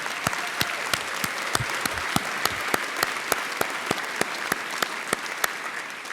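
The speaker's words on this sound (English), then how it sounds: "Give them a big applause." Guests at an annual chamber-of-commerce luncheon applaud the staff, a full room of steady clapping punctuated by one loud, regular nearby clapper pounding out an even beat throughout.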